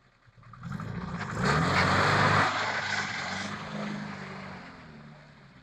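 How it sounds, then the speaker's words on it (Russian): A powerful car engine in an auto repair shop revs up to a loud, swelling roar, peaks briefly, then settles back to a steady lower drone, heard close with no talking. "Слишком мощный мотор, да?"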